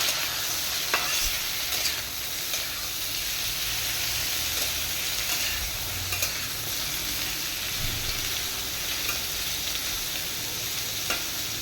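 Potatoes fry in a pan for a bitter gourd and potato curry, giving a steady, dense sizzle and hiss throughout, with occasional faint clicks of stirring close by.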